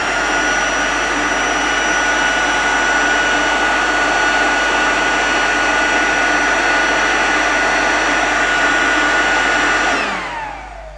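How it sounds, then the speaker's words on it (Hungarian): A leaf blower runs steadily at close range, a loud continuous rush of air with a constant motor whine, lifting a sheet of paper off a roll before cutting off and spinning down near the end. "ennek a lombfúvónak a segítségével igen, rendesen meg tudjuk emelni ezt a papírt"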